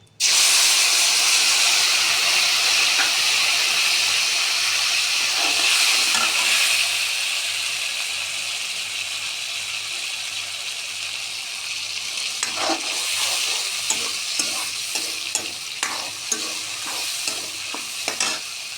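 Tomato and ginger paste fries in a pan with a loud, steady sizzle and hiss. The sizzle eases after a few seconds, and scraping stir strokes come through in the later part.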